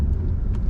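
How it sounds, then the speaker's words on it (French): A car in a driving lesson accelerates gently, giving a brief, steady, low engine rumble heard from inside the cabin. "On accélère doucement et on met la 2."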